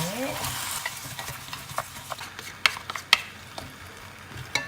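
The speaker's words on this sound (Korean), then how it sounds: "양념을 집어넣고 버무린 다음에" Chicken being mixed with seasoning in a pot: continuous close stirring with a soft sizzle underneath, punctuated by sharp clinks of a utensil against the pot.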